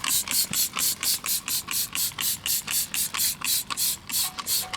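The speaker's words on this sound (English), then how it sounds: "Next, we're gonna spray it down and let it sit for 30 seconds." Cleaner is sprayed onto the wheels of a BMW E46 in a long run of quick, even trigger-pump bursts, each a sharp hissing spritz repeated rhythmically and close by.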